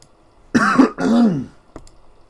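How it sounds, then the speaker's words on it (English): A single person coughing and clearing their throat close to the mic, two quick harsh bursts followed by a short faint click, with near silence around them. "I have a little bit of a cough"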